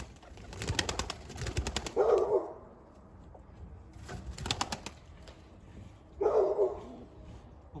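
Pet pigeons in a loft flap their wings in short bursts and coo softly between the flutters, close by, with no talking.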